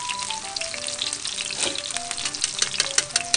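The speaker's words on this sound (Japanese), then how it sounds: "180度で片面1分半ずつ揚げて" Breaded peeled shrimp fry at 180 degrees in less than a centimetre of oil. The sizzling is loud, close and continuous, with dense crackling and popping bubbles throughout.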